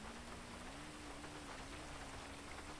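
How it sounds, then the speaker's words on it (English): Steady rain falls in a roleplay video game, a dense, even hiss of drops on surfaces that carries on throughout at a soft level with no voices. "it's starting to rain"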